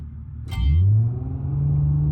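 A car engine in the BeamNG.drive video game, on a Utah time-trial course, revs hard under full throttle. It rises in pitch with a loud, steady roar that builds after a brief burst of noise, and no one speaks.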